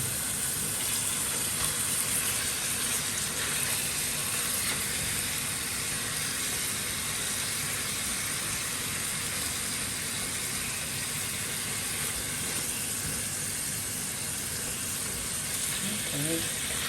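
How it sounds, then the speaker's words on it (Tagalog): Chicken sautéing in a pan, a steady broadband sizzle holding evenly throughout, with faint talk in the background. "gigisa tayo. Yan, nilagay ko na yung chicken"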